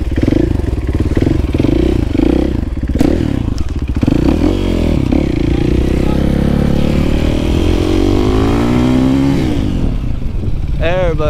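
A motorcycle revs hard and loud, its engine note climbing and falling in sweeping pitch changes while popped up in a wheelie, with road clatter underneath and a short burst of rising revs near the end.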